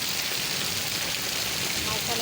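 Heavy rain pours steadily during a storm in Murree, a dense, continuous hiss of drops striking surfaces and running water, loud and close with no pause across the short stretch.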